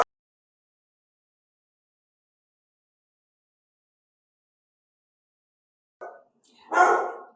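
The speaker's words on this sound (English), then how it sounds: "when she barks, he starts barking, even though he can't really hear" Two dogs, one elderly and deaf and one very active, bark as the mailman arrives. A long silence ends in a few short, sharp barks near the end.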